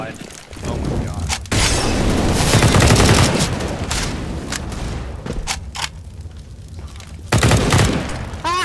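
Bursts of AK rifle fire from the video game CS:GO crack out loud and close in quick strings, with a few louder booms, while players talk excitedly over the shots.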